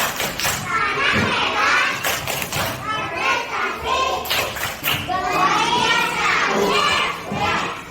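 A class of young children claps in rhythm while chanting together in a classroom, their loud, close voices rising and falling in bursts over sharp hand claps.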